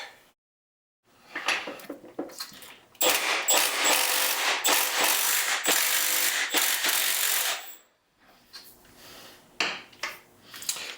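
A ratchet loosens Torx 40 bolts on a BMW R1300 GSA motorcycle, its rapid, close clicking turning into a dense, loud run of clatter for several seconds, with sparser clicks before and after.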